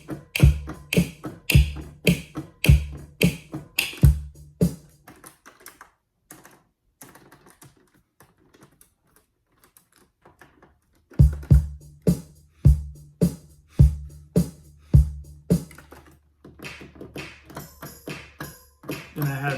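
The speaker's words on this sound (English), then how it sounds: "So yeah, I started with some drums. Made a really simple pattern." Simple swung drum pattern programmed on an ASR sampler, crisp kick and snare hits in a steady loop that drops out midway to near silence, then returns with a deeper low-end thump underneath.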